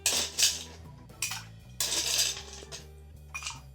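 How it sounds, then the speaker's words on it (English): Ice dropped into an Old Fashioned cocktail glass, a few bright clinks and rattles of cubes in separate bursts, close and fairly quiet with no talking. "And then ice."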